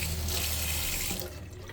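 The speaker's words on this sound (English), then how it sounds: "let me see about just running some water on it a little bit here real quick" Water from a tap runs steadily over a stone found outdoors, a continuous close splashing that tapers off near the end.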